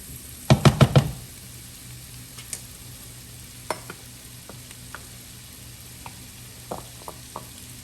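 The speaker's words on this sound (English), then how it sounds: "we're going to add a little bit of flour to here and create a roux" A spoon knocks against a pot in a quick burst of four sharp taps, then flour and butter are stirred into a roux, soft scattered scrapes and clinks over a low sizzle.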